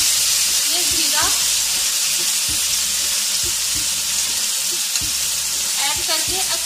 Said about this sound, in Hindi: अब मैं इसके अंदर अरवियां ऐड करूंगी। इसको मैं फ्राई करूंगी